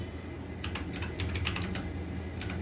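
Someone types on a computer keyboard with quick, close clicking keystrokes that come in irregular bursts, with no talking.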